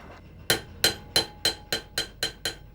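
A hammer strikes a piece of sheet metal while bending it into the handle for a cattle cowbell. Eight sharp metallic blows land at a steady, slightly slowing pace, clear and close, with no talk.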